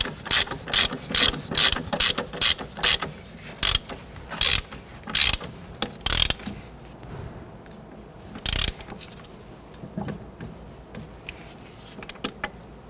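A hand ratchet tightens a bolt on the front lower control arm of a 1992-1996 Toyota Camry, sounding as close, sharp bursts of rapid clicking separated by brief pauses, louder at first and sparser toward the end.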